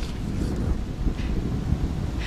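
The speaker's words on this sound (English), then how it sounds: "Really hot and really windy." Strong wind gusting on a hot day at a golf course, a steady low roar of blustery air buffeting the microphone without any talk.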